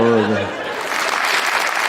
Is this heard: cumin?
no